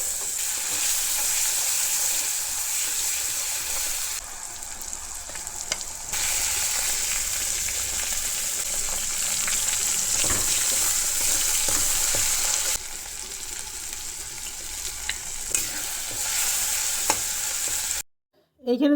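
Onion paste and garlic paste frying in a pan, a loud, continuous hissing sizzle that rises and settles in waves, punctuated by scraping stirs and clinks, then cut off abruptly just before the end.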